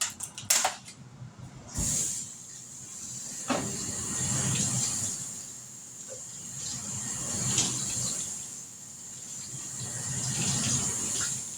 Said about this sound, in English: I'm going to rinse off some strawberries